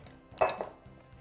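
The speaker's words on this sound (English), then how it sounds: "We're going to put these into the pan, like this" Boiled vegetables tipped into a casserole pan, giving a single clattering clink of pan and utensil followed by a brief soft rattle, close and alone.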